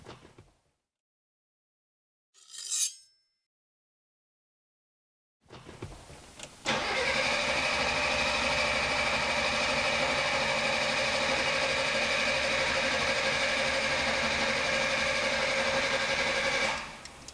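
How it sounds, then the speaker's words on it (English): Car engine cranking over on the starter with both ignition coils disconnected after a high-flow turbo install, a steady mechanical churning that runs for about ten seconds after a brief earlier burst, with no firing. "I'm just going to disconnect both the coils so we can crank it to get oil pressure to the turbo"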